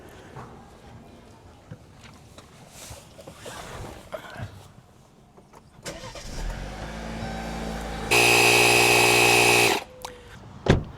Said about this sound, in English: And now we're going to go ahead and start the car.